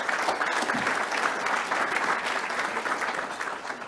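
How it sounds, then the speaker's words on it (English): An audience applauds a singer after her performance at a political gathering, a steady, dense wash of clapping from many hands that holds at an even level throughout. "Give her a round of applause for that."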